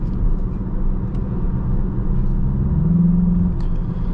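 A 2023 VW Jetta GLI engine in Sport mode rumbles steadily at idle or low revs, deep and continuous, with a faint rising turbo whine near the end.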